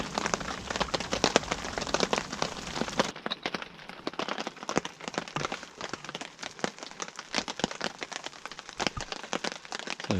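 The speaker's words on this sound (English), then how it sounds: "you can probably hear the rain is starting to pitter-patter off" Rain patters and taps on a car roof during car camping, irregular sharp drops clicking over a constant wash, fairly close and loud, with a duller, softer stretch after the first few seconds.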